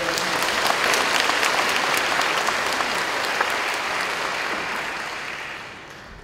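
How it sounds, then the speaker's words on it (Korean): Church congregation applauding to welcome a visiting pastor: sustained, dense clapping from a large crowd in a worship hall, loud and even, fading slightly near the end. "우리 큰 박수로 우리 목사님하고 환영하겠습니다"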